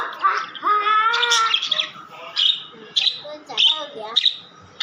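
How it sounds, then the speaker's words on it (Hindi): Australian parrots chirp and whistle in a rapid run of bright, warbling calls with short pauses between bursts, close and fairly loud. "आपके तोते कर क्या रहे हैं? डांस कर रहे हैं।"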